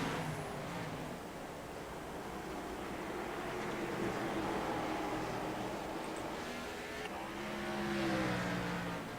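Race cars in an iRacing Grand National Series event at North Wilkesboro drone past in a steady engine roar, swelling as they accelerate near the end, with a continuous broadband rumble.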